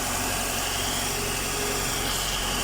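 A Mitsubishi Lancer engine runs steadily after a carburetor overhaul, giving a constant, close, even hum with no break.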